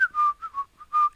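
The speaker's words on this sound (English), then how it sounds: "But the Shaggy Man began to whistle again," A man whistling a short tune, several clear, close, high-pitched notes in an uneven rhythm with brief gaps between them, alone without any talking.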